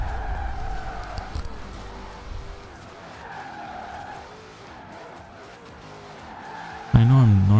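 A car in Forza Horizon 4 revs and drifts with a wavering engine note under a voice talking, then a sudden loud tire squeal cuts in near the end.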